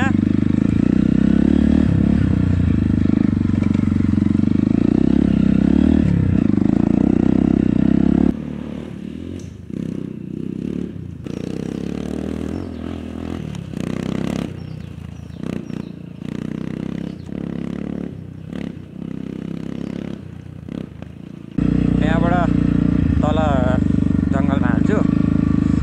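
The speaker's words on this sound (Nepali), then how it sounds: "अहिले चाहिँ मजाले आउँदो रहेछ क्या बाइक" Motorcycle ridden along a jungle road in Bhojpur, East Nepal, its engine droning loud and close with bumps and rattles. Wind noise drops away for a stretch midway and then returns. A voice is heard over the riding.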